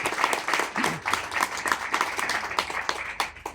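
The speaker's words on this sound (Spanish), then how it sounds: "Solo merece un aplauso gigante para ustedes." A crowd at a political rally in Santa Rosa de Cabal, Colombia, breaks into sustained applause, dense clapping rising and falling in waves with a few voices calling out beneath it.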